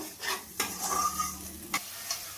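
Spice paste for chicken kofta curry sizzles in a pan while being stirred, with a steady frying hiss broken by a few sharp scrapes of the spoon, close and moderately loud, no voices.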